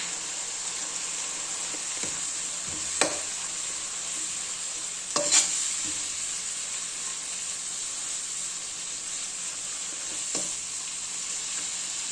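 Grated coconut is stirred into a sizzling oil tempering with sambar powder for a mixed vegetable bassaru. A steady loud frying hiss runs throughout, broken by a few sharp spoon scrapes against the pan.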